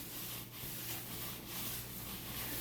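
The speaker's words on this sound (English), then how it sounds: "you take it and you wipe the gun down" A rag rubs steadily across a gun to wipe away excess oil, giving a soft continuous scrubbing hiss with gentle strokes, close up and alone.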